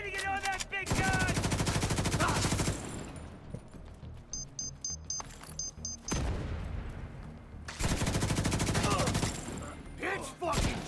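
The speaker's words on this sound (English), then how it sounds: "I'm gonna get on that big gun!" Video game combat with a big mounted gun, heard as long, dense bursts of heavy automatic fire in loud sustained stretches, broken by short pauses with faint beeping tones and light background noise.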